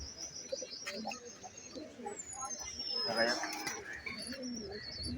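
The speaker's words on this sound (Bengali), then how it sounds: "এটা আমাদের লফটের পায়রা কিছু আছে।" Loft pigeons coo softly in the background, with scattered chirps and a rising whistle-like call, while a person talks over them.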